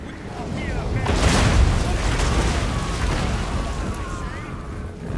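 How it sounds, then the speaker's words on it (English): A Grudge Thrower artillery piece in Total War: Warhammer fires and its shot lands as a broad, rumbling boom that builds around 1 to 2 seconds, then stays as a sustained low roar of impact and battle noise. "So here comes the Grudge Thrower"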